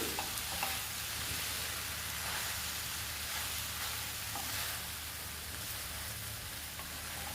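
Fresh gongura, coriander and other chutney ingredients are mixed together in a pan, giving a steady, continuous sizzle and stirring hiss that runs evenly throughout with no voices.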